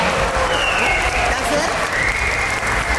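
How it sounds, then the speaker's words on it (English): Audience applause fills the stands at a dolphin show at the Georgia Aquarium in Atlanta, a steady, loud wash of clapping mixed with crowd noise and faint whistle-like tones, with a little background talk. "How about a round of applause for Kenobi, Pacino, Sydney, and Polka for starting off our presentation today."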